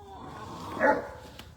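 A single short dog bark or yip, fairly close, over quiet background noise.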